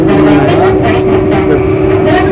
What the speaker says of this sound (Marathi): आताच ट्रेनमध्ये आहे मी, बघू शकता.